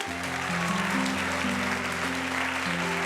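A church congregation applauding, a continuous dense clatter of many hands under sustained organ or keyboard chords.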